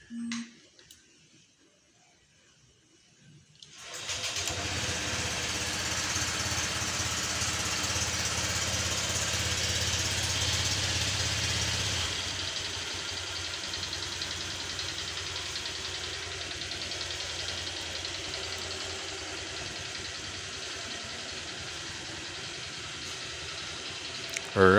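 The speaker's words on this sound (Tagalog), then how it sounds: "isa-start ko na muna yung motor" A Honda Click 125i scooter engine starts after a short rattle and settles into a steady, close idle that runs on unbroken.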